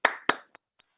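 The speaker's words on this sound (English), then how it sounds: "Give a round of applause to Rashad." Two sharp, close hand claps for Rashad, a school English carnival speech contest runner-up, followed by a couple of faint, quick taps, then quiet.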